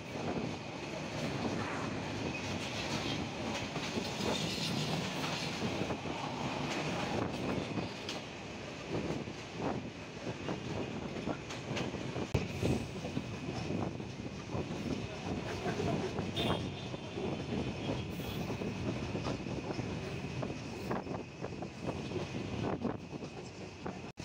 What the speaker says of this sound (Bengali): আমাদের চিত্রা এক্সপ্রেস ট্রেনের সাথে ডাবল লাইনে ক্রসিং হচ্ছে আরো একটি ট্রেনের সাথে।